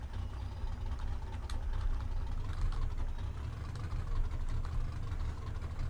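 Modded truck engine idling in Farming Simulator 15, a steady low rumbling drone that holds even and continuous throughout, loud and close with no talking.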